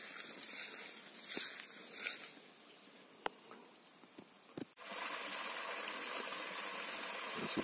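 A small pump runs in a fish pond on a farmstead, aerating the water with a steady, close hiss and gush that grows louder and fuller partway through, with scattered soft splashes and taps.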